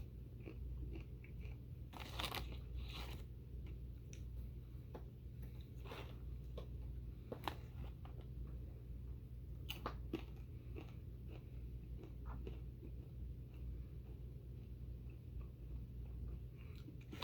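Crisp bites and chewing of chocolate-coated plantain chips, a steady run of close crunches with sharp louder snaps around the middle, set over a constant low hum with no talking.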